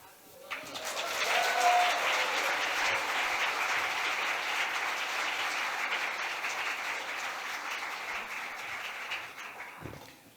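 Audience applause at New Rochelle's 2025 State of the City address, a steady sustained clapping from a large crowd that swells in the first seconds, holds for about eight seconds and tapers off near the end.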